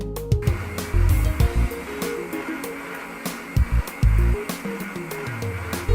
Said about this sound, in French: On replace notre batteur, voilà, et c'est reparti.